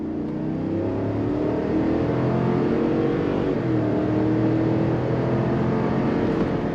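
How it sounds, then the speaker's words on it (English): The naturally aspirated V8 of a 2023 GMC Yukon Denali Ultimate pulls under full throttle, a steady, rising engine drone heard from inside the cabin with no voices. "That nice, naturally aspirated V8 power, I'd take it any day over the EcoBoost setup in the Navigator"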